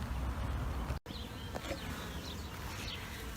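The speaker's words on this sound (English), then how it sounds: "There are bees out doing a lot of orientation flights, probably scout bees out" Honey bees on orientation flights buzz steadily in a dense droning hum, with individual bees briefly passing close by.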